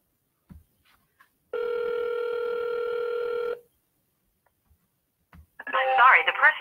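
A telephone rings out once in a steady, sustained tone of about two seconds during a cold calling dial session, preceded by faint clicks and followed near the end by a short burst of voice.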